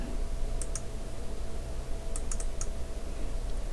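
Computer mouse clicks arrive in small clusters, a couple early and then a quick run of three or four, crisp and close over a steady hum of room noise with no talking.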